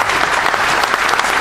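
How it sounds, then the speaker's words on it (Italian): A dense, loud burst of audience applause at a political evening event on work and business, continuous clapping throughout. "Però è un bel applauso"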